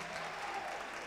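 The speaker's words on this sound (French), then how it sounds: "On va l'accompagner avec des applaudissements en public" Public audience applause at a live stage event in an open hall, a dense steady wash of clapping heard at a distance, continuous and fairly faint.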